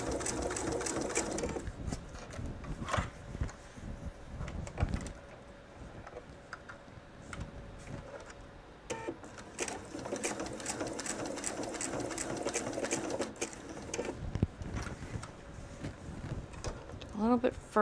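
A sewing machine topstitches across a jelly roll purse near its strap, running softly in uneven bursts with faint clicks, under a voice speaking throughout.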